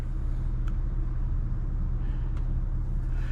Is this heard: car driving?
yes